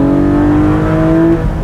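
A 2020 Porsche 718 Boxster Spyder's six-cylinder engine pulls hard in first gear with the top down, a loud rising rasp held for over a second before easing off.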